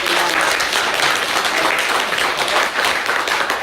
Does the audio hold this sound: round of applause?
yes